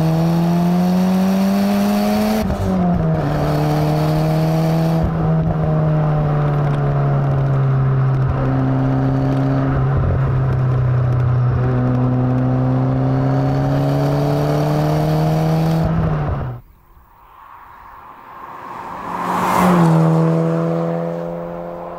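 A Lotus Elan M100 SE turbo engine revs freely up toward its redline while driving, a loud close-up whine that climbs steadily, drops with gear changes, dies away briefly and then rises again.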